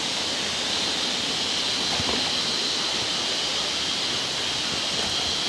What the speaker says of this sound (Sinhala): අපි ආවේ මෙන්න මේ කියන දිය කැරැල්ල බලන්ඩ.